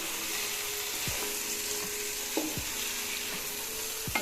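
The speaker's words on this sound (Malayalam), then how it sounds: "പതുക്കെ നമ്മൾ ഇളക്കി കൊടുക്കുക." Chicken and masala for Palakkad-style chicken biryani frying in a pot, a continuous close sizzle with slow stirring scrapes and a few soft knocks of the spoon, no voices.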